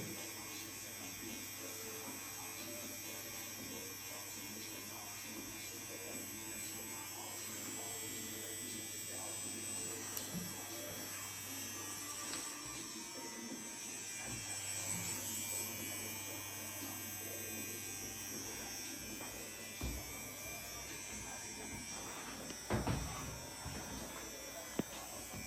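Tattoo machine packing in ink gives a steady, low electric buzz that runs continuously at moderate level, with faint background noise and a few small knocks near the end.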